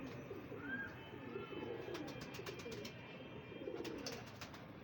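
Pigeons coo softly and repeatedly in a quiet enclosure of prized pairs. Low rolling coos repeat through the clip, with a few faint chirps and light clicking taps.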